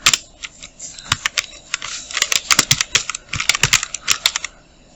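Rapid, uneven clatter of a computer keyboard as Tamil text is typed in NHM Writer for a Photoshop visiting card design, with bursts of close keystrokes and brief pauses.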